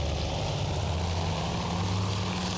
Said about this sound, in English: Japanese planes coming in for their attack run